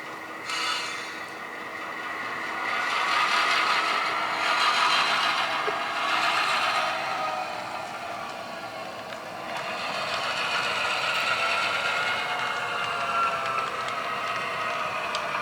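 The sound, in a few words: locomotive moving slowly on street rails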